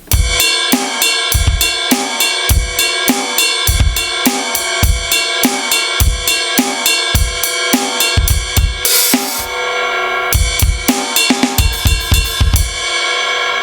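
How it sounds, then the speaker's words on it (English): A drummer plays a steady beat on a kit, alternating strokes between the middle of one cymbal and the ride over a regular kick and snare pulse, with a brief crash-like swell partway through, close, loud and unaccompanied by talk. "what you can do is swap between the middle part of the cymbal and the ride"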